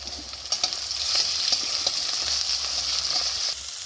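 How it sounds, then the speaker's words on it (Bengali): Onion frying with garlic and ginger paste in hot oil sizzles steadily, with occasional stirring scrapes while a mutton chana masala is being cooked. "এবার আমি পেঁয়াজটা দিয়ে দিলাম আর দেবো রসুন বাটা"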